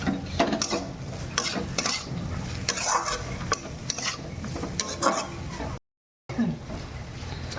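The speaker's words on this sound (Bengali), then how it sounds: "লো ফ্লেমে রেখে নাড়াচাড়া নাড়াচাড়া করে নেবেন ভালো করে" A chilli baby corn sauce being stirred in a pan over a low flame gives repeated scraping and utensil clinks against the pan, with a soft sizzle running underneath, steady and close.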